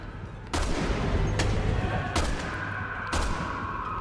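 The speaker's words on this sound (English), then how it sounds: "I'm shooting him with my sniper rifle." Sniper rifle shots in the video game Resident Evil 6, three or four sharp cracks spaced about a second apart over a steady background rumble of game noise.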